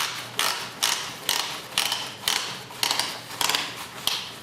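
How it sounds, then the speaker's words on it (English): Halkey Roberts V85000 automatic lifejacket inflator twisted into its threaded grooves, a series of about eight regular scraping, ratcheting clicks close by, each a short rasp repeating roughly twice a second. "If you twist this around, it will find its grooves, and then it's just a case of turning it clockwise and tightening it up."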